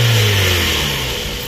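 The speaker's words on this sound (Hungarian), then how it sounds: "Halljátok, hogy hogy ketyerészik, és megpróbálom húzni egy kis gázt." A Mazda 3 with a 1.6 engine revs up loud and close, a steady engine roar holding strong through the whole moment with no talking.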